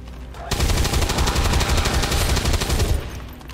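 Rapid automatic gunfire in XCOM 2, a loud sustained burst of about two and a half seconds with quick repeated shots that start abruptly and then trail off into quiet.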